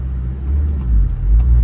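A Subaru WRX launches from a stop, its engine rumbling loud and close with a building low roar as the car accelerates, no talking over it.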